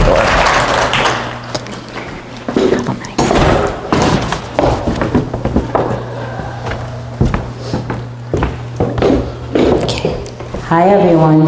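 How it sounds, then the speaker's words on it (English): A door swings shut amid a room full of people at a Saturday morning event. Sharp thuds and clatters come through lively applause and murmuring crowd noise, followed by more bumps and chatter. "let's close this door."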